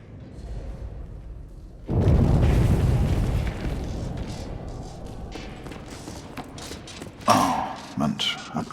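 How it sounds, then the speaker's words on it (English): Heavy bombing explosions in the WWI video game 11-11: Memories Retold, a loud low boom erupting at about two seconds and rumbling on for several seconds, then fainter debris and creaking sounds and another sharp blast near the end, with voices speaking over parts of it. "Sie bombardieren das Gebiet."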